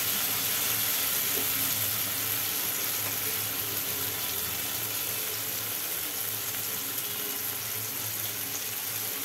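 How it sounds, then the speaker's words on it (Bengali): Potatoes frying in a pan with onion and tomato, a steady close sizzle and crackle that holds at an even level throughout, with no talking. "এবার ওর মধ্যে একটু আলু দিলাম"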